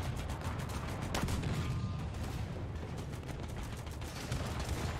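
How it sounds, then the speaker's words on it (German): Sustained gunfire and artillery bursts hit a ship during a naval battle in War Thunder, with a destroyer such as the Type 1936B or Type 1934A under fire; dense continuous shelling and booms fill the whole stretch without pause. "da beschießt mich was"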